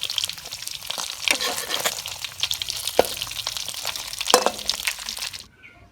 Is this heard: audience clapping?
no